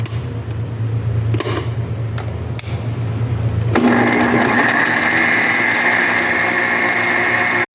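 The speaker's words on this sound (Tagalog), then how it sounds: "Ito na po yung mansaf. I-blender na po natin." A kitchen blender whirs steadily as it purees mansaf, its motor pitch rising and turning harsher partway through as the blades speed up, loud and continuous with no voices.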